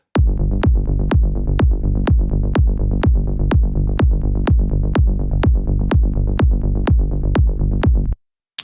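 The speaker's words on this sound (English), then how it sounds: "So together, kick and bass sounds like this." A steady four-on-the-floor melodic techno kick thumps about every half second, locked with a plucky, slightly detuned bass synth, loud and alone, ending abruptly.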